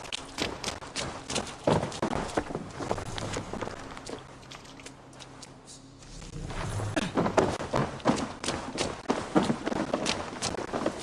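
Horse hooves clip-clopping at a steady gait in Assassin's Creed Valhalla, fading briefly in the middle before resuming, with game ambient noise behind.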